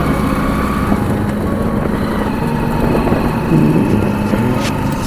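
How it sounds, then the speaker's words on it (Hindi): Hero Splendor 100cc motorcycle climbing a steep uphill road, its small engine droning steadily and laboring close by with wind noise over it. "बाइक का दम निकल रहा है।"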